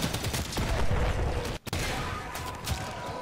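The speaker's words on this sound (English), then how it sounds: "I just destroyed a corpus vehicle." Heavy rapid gunfire in the game Warframe tearing into a Corpus vehicle, loud and continuous with a crash-like burst and a sharp cut near the middle, then the firing resumes.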